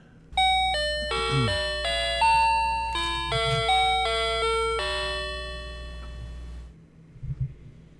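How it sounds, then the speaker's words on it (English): A Family Mart convenience store's electronic door chime in Japan. It plays a clear, bright run of ringing tones over about six seconds, then fades, leaving faint background noise. "that was the door chime for the Japanese convenience store"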